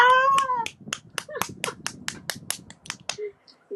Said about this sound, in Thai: ทุกคนปรบมือให้กับแขกรับเชิญท่านนี้หน่อยค่ะ